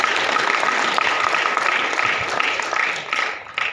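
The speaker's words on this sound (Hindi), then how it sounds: "जोरदार तालियां होनी चाहिए" Steady, fairly loud applause from an audience at a company venue meeting, dense hand clapping sustained for several seconds and easing slightly toward the end.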